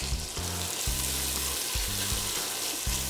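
Chopped onion and celery sweat in a pan for a lamb navarin, a steady close sizzle with low rhythmic knocks of stirring throughout, no voices.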